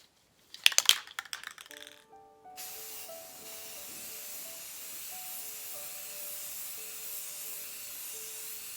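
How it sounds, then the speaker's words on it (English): A few rattling clicks, then a long continuous hiss of a black spray paint can sprayed steadily onto small cube boxes, with a faint tonal whine underneath. "give these little cubes a quick coat of some black spray paint"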